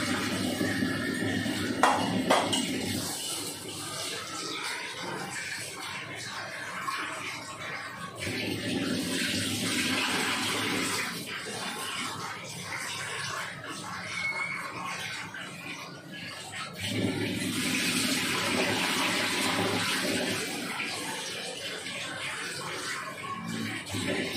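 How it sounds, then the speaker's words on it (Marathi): Water splashes and swirls in bursts as rice is rinsed in a container, with pauses between the washing sounds; fairly quiet and close. "चार 5 वेळा मी चांगले व्यवस्थित तांदूळ धुवून घेते"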